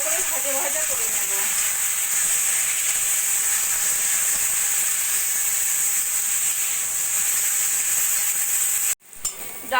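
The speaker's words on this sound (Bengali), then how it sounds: "এবার একটু ভালো করে ভাজা ভাজা করে নেব" Soaked red lentils with salt and turmeric fry in a hot pan, giving a loud, steady sizzling hiss that holds almost unbroken before cutting off abruptly near the end.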